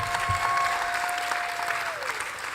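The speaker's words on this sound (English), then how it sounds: "A mega round of applause for Tim." Audience applause for a speaker at an AI conference, a dense burst of clapping from a hall crowd that holds steady and tapers slightly, with a faint tonal whine running beneath it.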